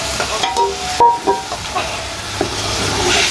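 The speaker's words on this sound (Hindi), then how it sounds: "सुबह सुबह मेरे हस्बैंड लगा रहे हैं साग को तड़का" A tempering of garlic, ginger and green chili is made for saag, with short metallic clinks and stirring over a steady hot sizzle that swells louder toward the end.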